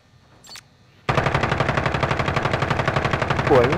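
Gunfire erupts in Call of Duty: Modern Warfare, opening with a single shot, then a loud, rapid automatic burst of evenly spaced rounds that continues without pause.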